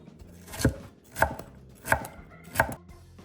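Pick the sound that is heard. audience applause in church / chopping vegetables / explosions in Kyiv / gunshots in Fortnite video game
chopping vegetables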